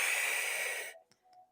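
A long, forceful, airy exhale during a Pilates workout, close and steady, then it breaks off into quiet, followed by a couple of faint clicks and a soft inhale.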